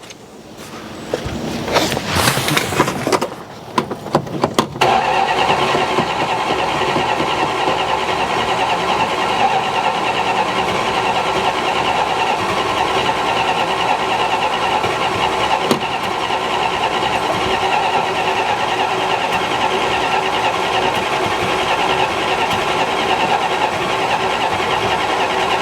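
A 1969 Dodge Coronet engine cranks briefly with uneven turning, then catches and settles into a loud, steady running drone that continues close by with no talk.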